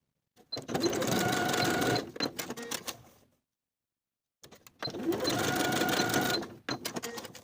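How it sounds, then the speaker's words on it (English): A sewing machine stitches a denim pocket seam at a 3/8 inch seam allowance for a denim jacket. It makes two close, rapid whirring runs of about three and two seconds, separated by a short silent pause. "Sew from the top folded edge and over that bottom fold at a 3/8 inch seam allowance for both sides."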